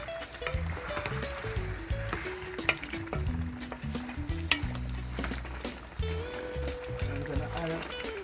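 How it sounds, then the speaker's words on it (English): A spoon stirs Jamaican stewed chicken in a pot, making soft scraping and a steady simmering sizzle that runs throughout. Sustained tonal background sound plays underneath. "Okay guys, I'm making a stir."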